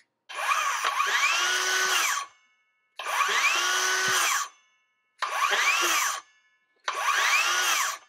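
Ryobi 18V cordless circular saw whining up to full speed and spinning down, four separate runs of about two seconds each with short silent gaps between them, loud and close.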